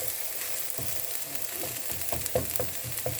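A spatula stirs potatoes frying in a pan for potato fried rice, giving a soft steady sizzle broken by short scraping strokes that come closer together toward the end.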